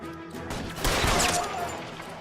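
Gunfire rattles through a shootout in L.A. Noire, a dense burst of shots swelling midway and holding loud and close for about a second before easing, with a voice faintly underneath.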